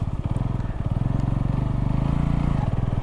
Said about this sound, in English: I'm just going to rev it a little bit and go around in a circle